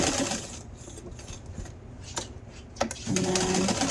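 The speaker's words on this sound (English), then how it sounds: "I'm just going to put it right into my machine here and stitch it down" A sewing machine stitches a hand-embroidered fabric heart gift tag, a close, steady mechanical whir with a few clicks and a brief pause while the fabric is turned at a corner.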